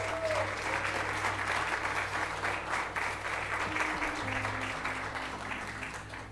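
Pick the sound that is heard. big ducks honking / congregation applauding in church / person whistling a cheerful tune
congregation applauding in church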